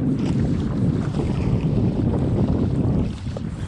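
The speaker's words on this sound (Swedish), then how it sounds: "Det är pålandsvind, men mycket svagare." Strong, fairly light onshore wind rumbles and buffets steadily outdoors by the sea, a low roaring gust that eases slightly near the end.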